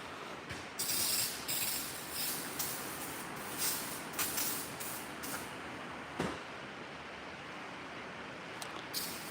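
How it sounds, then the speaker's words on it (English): A cleaner being sprayed onto a 5.3 transmission in a shop, making a steady hissing spray with brief bursts and clicks from the nozzle, close and fairly loud, with no talk. "So I'm gonna spray this thing again"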